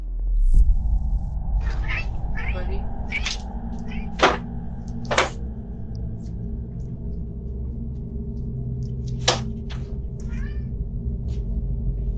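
A cat meows a few times outdoors at night, short sharp calls spread across a steady low rumble of background noise, with soft clicks and taps between them.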